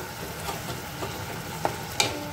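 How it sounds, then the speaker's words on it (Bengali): Chicken being sautéed with spices in a pan gives a low, steady sizzle, with a spoon scraping and a couple of sharp clinks against the pan near the end. "চিকেনটা দিয়ে আরো ভালো করে বেশ কিছুক্ষণ ধরে এটাকে আমি কষিয়ে নেব মশলার সাথে"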